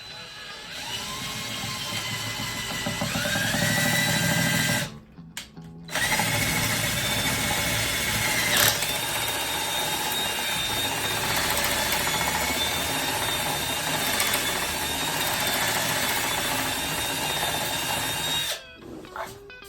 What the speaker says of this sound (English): we might have to do some drilling